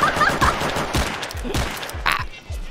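Rapid gunfire in the video game Valorant, loud bursts of repeated shots with a sharp crack near the end, dense and up close.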